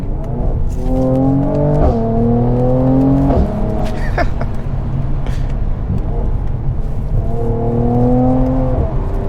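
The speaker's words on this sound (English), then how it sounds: "That transmission, man, when you hold boost, it just shifts with authority. Let's open it back." A Mercedes C43 AMG engine pulls hard under boost, rising in pitch through several gears with quick, firm upshifts from the automatic transmission, loud and close from inside the car.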